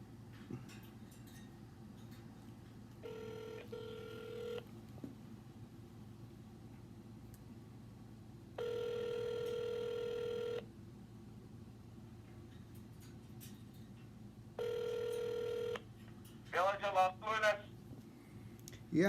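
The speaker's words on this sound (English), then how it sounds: "we're going to call them back and we're going to be on the record returning their phone call" A telephone call is placed and rings back on a landline: a tone sounds, followed by several long electronic ring bursts separated by pauses, then brief dial-like chirps, over faint steady hum.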